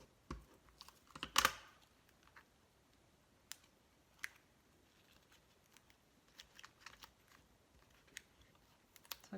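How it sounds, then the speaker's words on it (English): Small dry clicks and scratchy pats from a tape runner pressing adhesive onto the back of a paper piece for a handmade Valentine's Day card, with one louder rustle early, then sparse close taps over quiet. "take my tape runner, add a little adhesive to the back of this."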